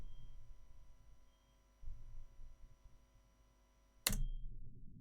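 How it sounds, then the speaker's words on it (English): A computer fan drones as a faint, steady hum in the background of a quiet room, with low rumbling shifts and a sudden sharp click near the end. "What we need to do is we need to get rid of this computer fan noise."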